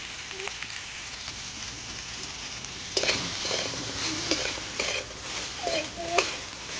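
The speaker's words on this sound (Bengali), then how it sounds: "প্রথমে ফুলকপিটা আমি তেলে ভেজে নেবো" Cauliflower fries in mustard oil in a kadai, giving a soft, steady sizzle throughout that grows louder and more crackly halfway through, with occasional clinks from a utensil against the pan.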